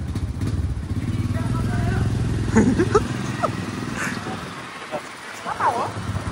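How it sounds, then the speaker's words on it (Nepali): A motorcycle ridden by a young woman hums steadily at close range, then its engine sound fades away, while friends talk and call out over it. "हाम्रो दिजुले बाइक चलाउँदै हुनुहुन्छ"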